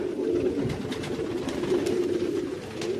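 Baku marble pigeons coo in a low, steady, overlapping murmur throughout, close by, with faint light rustling and no speech.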